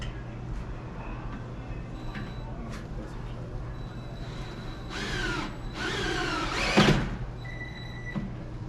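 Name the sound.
power drill driving one-way lag bolts into security door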